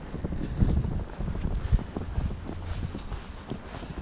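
Gusty wind during an April blizzard buffets the microphone outdoors near snow-laden trees, a steady rough rush with stronger gusts, no talking.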